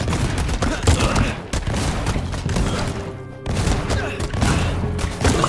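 Dense, loud gunfire from the video game Funko Fusion, with continuous overlapping shots and booming impacts filling the scene, briefly thinning once midway before resuming.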